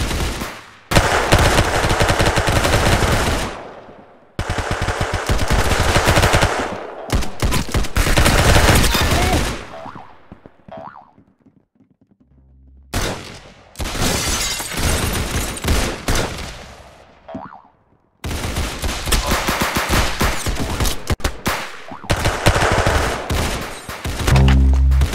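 Rapid automatic gunfire in the Roblox game Arsenal comes in long, loud, dense bursts separated by brief quiet gaps, with continuous fire dominating most of the stretch.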